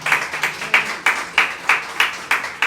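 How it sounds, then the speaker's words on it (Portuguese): A church congregation claps in a steady rhythmic beat at a worship service, about three claps a second, moderately loud and filling the room, with no talking. "aplauda ao Senhor com o seu melhor"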